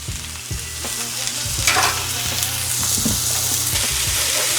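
Marinated London broil steak searing and sizzling in a hot pan indoors while being flipped, a steady loud frying hiss with scraping and clunking as the meat is turned, no talking.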